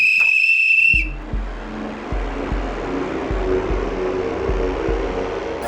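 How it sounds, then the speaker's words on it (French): A sharp two-tone whistle sounds for about a second, then cuts off, leaving a low rhythmic thumping with steady hiss and faint background noise. "Je vais me faire le plaisir de siffler pour la victoire."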